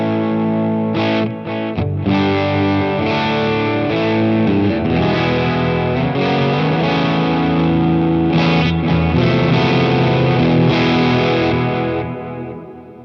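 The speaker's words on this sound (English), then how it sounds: "So now I'm feeding all of that delay and all of that reverb into the special cranker as well." Electric guitar played with heavy delay and reverb routed through an HX Effects loop into a distorted amp, sustained chords washing and ringing together, loud and continuous before fading at the end.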